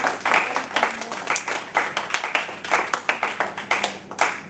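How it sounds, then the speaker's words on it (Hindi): Audience applause at a birth anniversary celebration for Dr. Babasaheb Ambedkar, a moderate hall of clapping hands with distinct individual claps in an uneven, continuous rhythm. "आपकी तालियों की गड़गड़ाहट के बीच"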